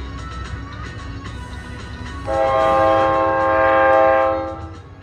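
A New Jersey Transit train at Secaucus Junction station, rumbling and clattering nearby before a loud, sustained chord horn blares for about two seconds and then fades.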